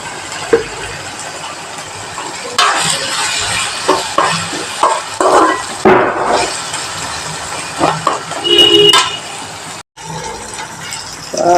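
Sliced onions sauté in a hot pan for a carrot and egg curry, giving off a steady, fairly loud sizzle with intermittent stirring scrapes and clatter throughout.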